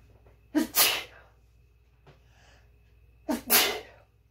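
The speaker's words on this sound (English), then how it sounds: "Yep, I had to sneeze." Two loud, close sneezes about three seconds apart, each with a sharp intake before the burst, over a quiet low hum, set off by pepper during cooking.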